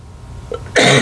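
A single loud, harsh cough bursts out near the end after a quiet moment, close and forceful.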